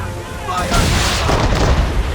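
Ship cannons firing during a naval battle in Assassin's Creed 3, a loud, close, sustained broadside roar of overlapping booms with voices shouting over the blasts.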